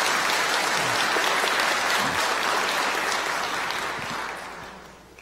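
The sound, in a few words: congregation applause welcoming new church members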